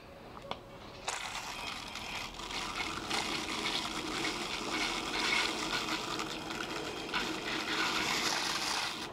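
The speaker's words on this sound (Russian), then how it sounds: "Во время этого процесса можно будет подливать воды немного." Water poured into a boiling nitric acid solution while recovering gold from computer parts, a steady splashing, bubbling wash that runs close and continuous for several seconds with no talk.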